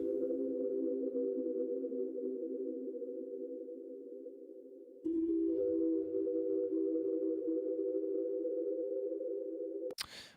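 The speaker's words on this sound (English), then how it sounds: "even just lowering the pitch will help you achieve a more lo-fi sound" Steady sustained tone from a lo-fi sample with lowered pitch, dropping to a lower pitch partway through and holding, ending in a brief bright click.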